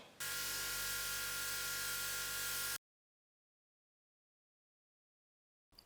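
An airbrush spraying red paint freehand, a steady close hiss lasting about two and a half seconds, then silence until a brief click near the end.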